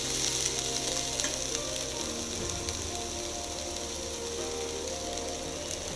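Coconut roasting in a hot pan, a close, steady crackling sizzle with scattered pops and faint stirring scrapes, continuing evenly without voices.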